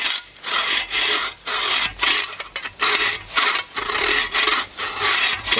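A buck saw cutting through wood in a steady rhythm of about nine long, rasping push-pull strokes with brief pauses between them, close and loud, with no talking.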